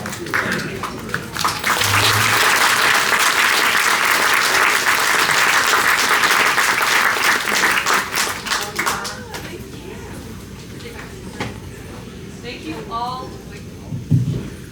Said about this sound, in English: Just another round of applause for these two ladies.